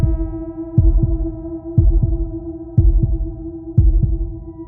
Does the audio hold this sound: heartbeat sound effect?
yes